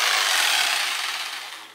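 A blade rasps through the sheet metal of a car hood in one continuous, bright scraping stroke, loud and close, fading slightly as the cut ends.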